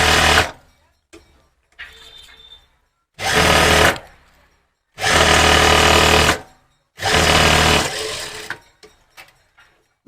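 A sewing machine stitches a coat collar in four loud, whirring bursts of a few seconds each, separated by short pauses filled with faint handling noises.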